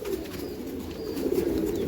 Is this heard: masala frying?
no